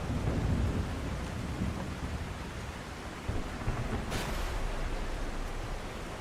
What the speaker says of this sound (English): That was a lightning bolt, not my ship.